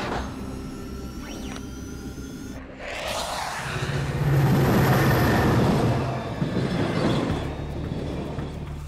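A cartoon train rolls past with a rising, rushing roar that swells loud in the middle, a brief hiss and hum at the start before the rumble builds and holds steady.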